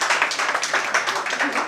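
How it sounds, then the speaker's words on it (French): Applause at a junior cooking competition event, a short burst of lively, fairly close clapping from a small group. "Applaudissements pour ce jeu."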